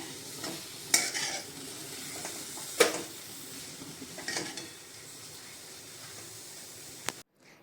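A spoon stirs and scrapes egg bhurji with coriander in a pan, making several sharp metallic knocks over a soft, steady sizzle close by; the sound cuts off abruptly near the end, and no one speaks.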